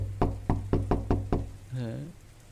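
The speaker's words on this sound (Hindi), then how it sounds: "बेटा अर्जुन, दरवाजा खोल बेटा" Six sharp knocks on a door in a home, sounding in a steady, evenly spaced series, followed by a short spoken call.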